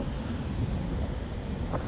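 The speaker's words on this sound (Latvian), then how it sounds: "Tuksnesis, ko tu gribi, un šausmīgi vējaina diena." Strong wind on a dusty desert day near the Texas–New Mexico border buffets the microphone in a continuous low, rumbling roar, with no voices.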